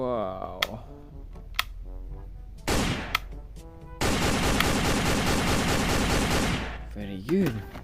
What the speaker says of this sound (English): It's very big weapon. This is from plastic. Try shoot.